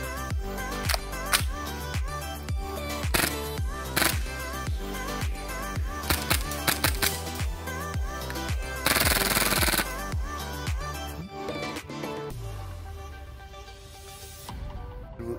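Old airsoft MP1 gas blowback submachine gun firing a rapid string of close, sharp shots with clacking bolt action, followed by a brief hiss of gas and a few scattered mechanical clicks as the firing stops.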